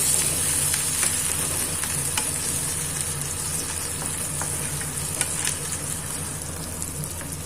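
Mourala fish frying in hot oil, a dense continuous crackling sizzle close up, steady throughout with faint spatter pops and no talking.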